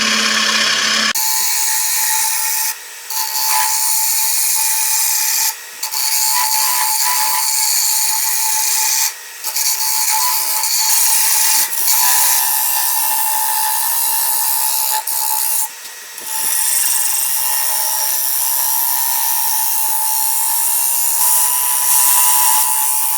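A wood lathe turns a natural-edge black gum bowl while a cutting tool scrapes the spinning wood, making a loud, steady hiss and whine broken by several brief pauses, with no talking.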